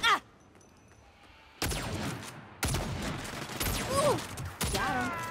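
Bursts of gunfire in the game Saints Row (2022), a brief shot at the start, then three loud volleys of rapid shots with ricochet-like whines, separated by short quiet gaps.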